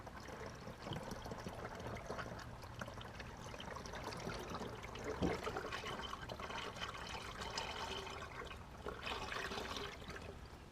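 Liquid ELC coolant concentrate pours steadily into the degas bottle of a 2001 Ford 7.3 diesel Superduty, a continuous gurgling, splashing stream close by with a brief louder glug midway and no talking.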